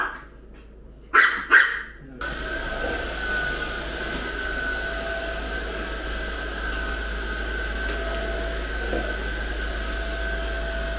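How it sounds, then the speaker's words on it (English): A dog gives a few sharp barks, then a vacuum cleaner starts up and drones loudly and steadily. "Doggo versus vacuum cleaner."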